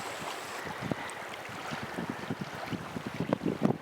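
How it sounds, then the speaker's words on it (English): Strong wind buffets the microphone in irregular gusts, with whitecap waves slapping and thumping against a boat hull close by. "the wind has really picked up."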